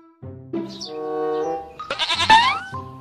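A goat bleats in a quavering, wavering cry, first a drawn-out call and then a rising, warbling second bleat, close and fairly loud with no talk.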